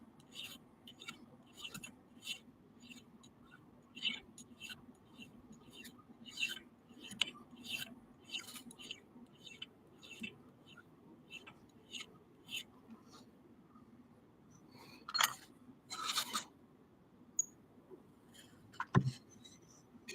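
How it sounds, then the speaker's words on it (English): A hand file rasps on a metal dragon hammer in quiet, uneven strokes, some short and some in small clusters, with a sharp clink near the end and a faint steady hum underneath. "Oh, did I file it the wrong way?"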